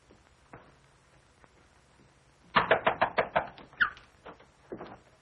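A run of quick, sharp raps on a door in a 1942 horror film, several knocks close together and fairly loud, then a few scattered knocks over a quiet room background.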